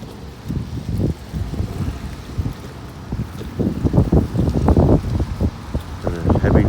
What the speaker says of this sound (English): Breeze is so strong I'm holding my phone really tight in my hand.